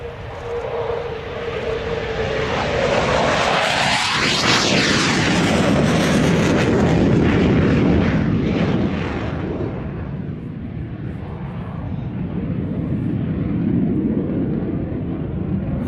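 A Skyhawk jet makes a loud pass at an air show, its roar building, peaking overhead with a sweeping pitch shift, then fading into a long rumble.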